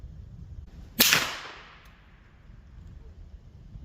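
A Ruger LC Carbine 10mm fires a single 180 grain MagTech full metal jacket round, one loud, sharp crack outdoors that fades into a lingering echo and then quiet.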